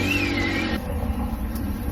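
A 2001 Mercedes-Benz S430 engine, the sedan just recovered from a dead battery, runs steadily up close, with a rising whine at the start that cuts off before the idle settles into a continuous rumble.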